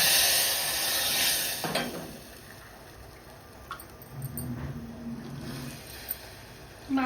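Mustard seeds, cumin, curry leaves and turmeric sizzle in hot oil for a tempering, a steady hiss with scattered sharp pops and crackles, close and unaccompanied by talk.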